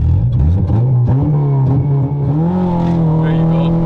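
A 2008 Honda Civic Si sedan launches hard from a dig, its engine climbing steadily in pitch through the gear, loud and close, with a voice faintly over it.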